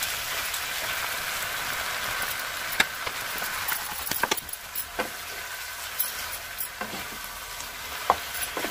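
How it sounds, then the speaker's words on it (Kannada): Eggplant pieces soaked in turmeric going into a frying pan with partly cooked potatoes for a dry aloo brinjal palya, a steady rain-like sizzle broken by scattered sharp clicks and stirring scrapes, no voices. "ಈಗ ನಾವು ಬದನೆಕಾಯಿಯನ್ನು ಹಾಕೋಣ"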